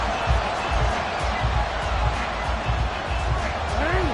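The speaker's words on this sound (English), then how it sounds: "this crowd making it hard to hear" A packed stadium crowd at a Ravens football game in the fourth quarter roars in a steady, loud wash of noise, with a commentator's voice running over it throughout.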